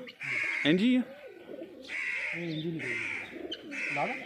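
Pigeons at a village loft coo and call repeatedly at close range, several overlapping birds in bursts, with people talking in the background.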